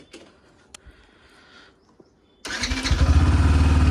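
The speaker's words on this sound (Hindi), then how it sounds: "तो भाई अभी स्टार्ट करते हैं बाइक और भाई चलते हैं।" A motorcycle engine cranks and catches, then settles into a loud, steady idle close to the microphone, preceded by a few quiet clicks and small handling noises.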